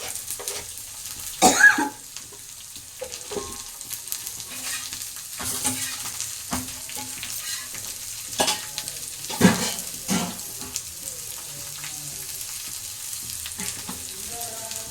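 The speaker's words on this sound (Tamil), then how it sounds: "நல்லா வெங்காயம் வதங்கட்டும்" Two medium onions fry in a pan for a breakfast dish, a soft steady sizzle broken by scraping stirs and a few louder clinks, heard up close with no talking.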